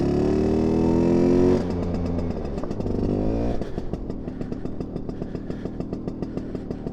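A small-frame Vespa scooter revs high and then settles into a steady, close two-stroke putter. The engine tone rises and falls as it pulls away, with a light rattle over the motor.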